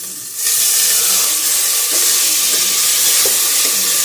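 Lentils and rice sautéing in hot oil with onion and turmeric for khichdi, a steady loud sizzle and hiss running throughout after a quieter first moment, with faint stirring clicks.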